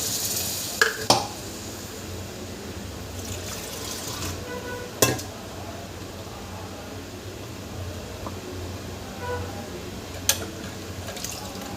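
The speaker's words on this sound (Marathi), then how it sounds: "पाणी टाकते आता" Water is poured into a cooking pot, a steady soft splashing stream with a few sharper clinks and splashes standing out over low background hum.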